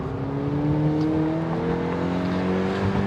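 A Mazda NC Miata driving hard on a race track, its engine droning steadily and close with a gear change partway through as the pitch resets and climbs again.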